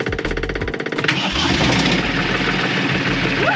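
A sailboat's inboard engine starts after a starter motor repair: a rapid cranking rhythm for about a second, then it catches and settles into a loud, steady running roar close by.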